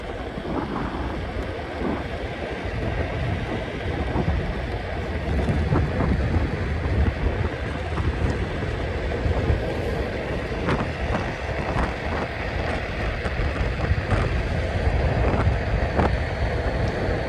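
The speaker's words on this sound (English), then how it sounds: "it's a little windy" Steady wind roars across the microphone for the whole stretch, a constant low rumble with gusty buffeting and no voices.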